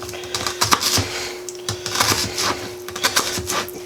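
A kitchen knife chops onion quarters on a board in quick, steady taps, close and fairly loud, over a constant low electrical hum.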